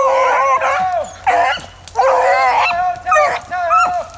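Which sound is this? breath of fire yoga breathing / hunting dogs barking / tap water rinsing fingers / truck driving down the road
hunting dogs barking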